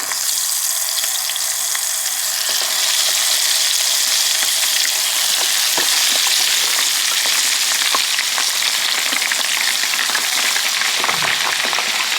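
Chicken wings go into a small fryer of hot oil and fry with a loud, dense, continuous sizzle and crackle, close by, with occasional sharper pops and no voices.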